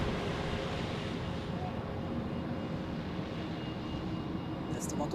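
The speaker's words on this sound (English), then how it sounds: "We have an A321neo departing on runway 16." An Airbus A321neo departs on runway 16 at Zurich Airport, its jet engines a steady, loud broadband roar that holds throughout, heard at some distance.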